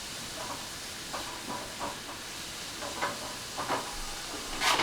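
Food is stirred in a pan over a low flame, with a steady soft sizzle and hiss broken by several brief scraping strokes of the utensil, rising a little louder near the end.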